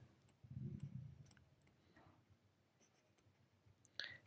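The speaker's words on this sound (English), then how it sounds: "Let me write that for you." Faint scratching of writing on a board, a short burst of strokes followed by light taps and clicks in a quiet room.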